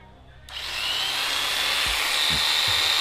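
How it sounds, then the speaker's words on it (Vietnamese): A mini electric jigsaw with a top-mounted switch and a 3 m power cord starts up after a short quiet moment and keeps running with a steady, loud high whine, while a few soft low knocks sound underneath. "cưa lọng mini ha"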